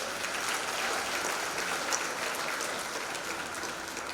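An audience at a university graduation ceremony claps for the graduates, dense, even applause sounding somewhat distant and soft, sustained for the whole stretch.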